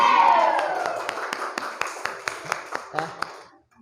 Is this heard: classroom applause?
yes